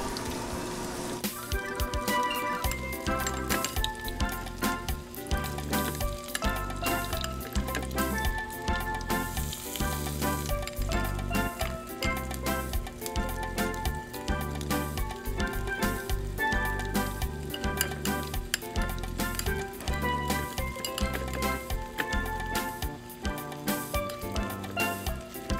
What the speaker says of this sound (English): set it into your 350 degree temperature grease, and you're going to cook it for 2 or 3 minutes per side